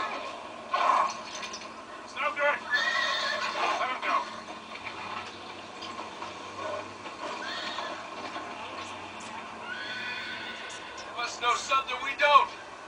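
Horse neighing and whinnying in the Uncharted 3 video game, several bright calls spread through the clip, with hoof clip-clop and ambient game noise beneath a voice talking.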